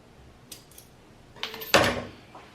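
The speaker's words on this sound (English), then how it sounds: "Using regular scissors is good enough." A few faint snips, then a louder crisp cutting sound near the end, like regular scissors slicing through something firm up close, while trimming parts during a Dyson V6 battery repair.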